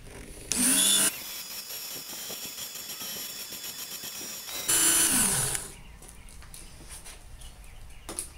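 Work Sharp powered knife sharpener grinding a blade, two loud whirring motor bursts about a second each with a high gritty whine, separated by a quieter steady hum.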